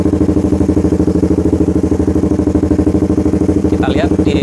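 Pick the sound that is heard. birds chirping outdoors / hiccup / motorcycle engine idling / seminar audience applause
motorcycle engine idling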